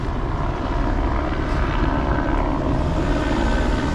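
A loud, steady helicopter rotor and engine roar hangs overhead, constant throughout with no pauses.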